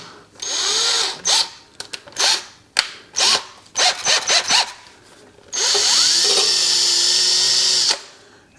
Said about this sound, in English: I'm going to take my drill